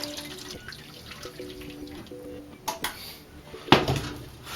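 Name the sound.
hot water poured around cheesecake pan for water bath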